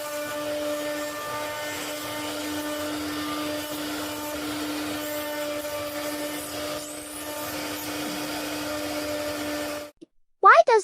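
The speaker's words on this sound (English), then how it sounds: "It uses a high-speed rotating bit guided by a computer to carve intricate designs into the wood automatically." A computer-guided high-speed rotating bit carves designs into wood, giving a steady whining drone with strong tonal hum that runs evenly for about ten seconds before cutting off abruptly.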